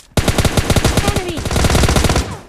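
Rapid automatic gunfire in the mobile battle royale game PUBG Mobile Lite comes as a loud, close burst of evenly spaced shots lasting about two seconds.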